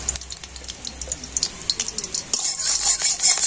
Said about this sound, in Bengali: আর এবার আমি কড়াতে দিয়ে দেবো 1 চামচ ঘি।